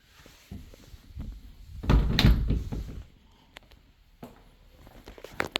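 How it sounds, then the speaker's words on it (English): Closet French doors in a new Lennar Trevi floorplan home swing open with a loud thunk and rattle in the middle, followed by lighter clicks and taps of the hardware in a quiet room. "Again, French doors for the closets. Let's go ahead and open that up."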